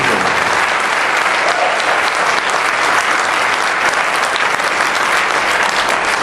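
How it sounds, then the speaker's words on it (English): Steady, dense audience applause at a political gathering, loud and continuous throughout with no breaks and no talk over it. "Please give them a round of applause"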